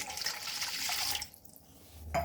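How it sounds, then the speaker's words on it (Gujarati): Water runs steadily for over a second as a glass of water is poured into fenugreek paratha dough mix, then stops briefly before a short splash at the end; no voices. "હવે આપણે 1 ગ્લાસ પાણી ઉમેરશું।"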